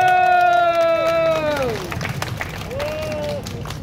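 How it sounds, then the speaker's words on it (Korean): A street crowd at a mixed-team dance busking show in Hongdae claps and cheers while a sustained voice rises and falls over it, then scattered claps and shouts continue with more cheering. "여러분들 많은 박수 한번 부탁드리도록 하겠습니다"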